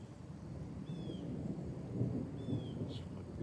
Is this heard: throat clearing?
no